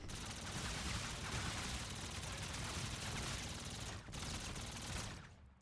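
Dense, continuous gunfire in Call of Duty Zombies as a horde of zombies is mowed down, loud and sustained with a short dip just after four seconds and a fade at the end.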